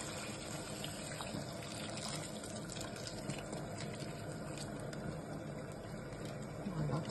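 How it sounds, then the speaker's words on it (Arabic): Hot water poured over vegetables in a cooking pot for Senegalese thieboudienne, a steady continuous gush of liquid lasting the whole stretch at moderate level, with faint speech-like sounds mixed in. "ومن بعد هذا الماء ديالي سخون، كنجيو كنزيدو عليها حتى كتغطى ليا مزيان الخضره ديالي"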